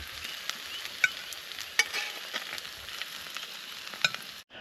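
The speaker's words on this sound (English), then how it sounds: "We're just gonna let those sear on both sides" Lobster pieces from a night dive searing in a pan, a steady broadband sizzle with a few sharp pops and utensil clicks, close and fairly loud, ending abruptly.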